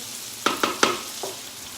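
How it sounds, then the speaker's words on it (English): Chilies frying in a pan give a few sharp, close scraping or spattering bursts, three quick ones then a softer fourth, over a faint sizzle. "So we're going to get that fried off nicely."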